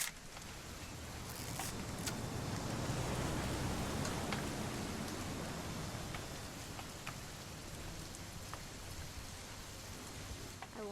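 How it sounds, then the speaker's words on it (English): Steady rain falls in the video game What Remains of Edith Finch, a dense hiss of drops on surfaces with occasional sharper ticks, continuous and fairly close throughout without any clear speech. "It's gonna rain the whole weekend"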